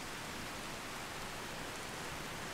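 Steady rain in the Skyrim video game, a dense, even hiss of falling drops with no breaks, fairly faint and alone without any voices.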